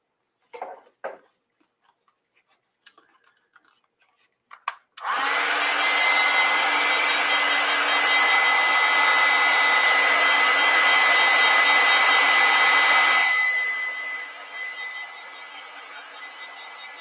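A hair dryer blows steadily on an ink and wash painting, a loud close whir lasting about eight seconds before it drops to a softer fading hiss, with a few light taps and rustles beforehand.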